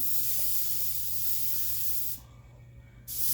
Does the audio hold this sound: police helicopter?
no